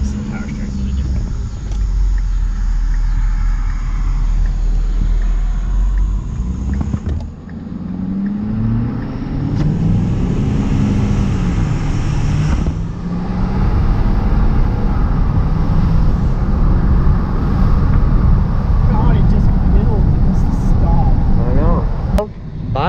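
An older Chevrolet pickup truck driving on a farm, its engine a steady low rumble with rising and falling revs as it shifts, close and loud throughout with some cabin noise.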